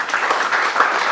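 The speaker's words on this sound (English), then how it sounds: "I think I'm supposed to have a round of applause for that" A business summit audience gives a short burst of dense, even applause that stays close and steady throughout.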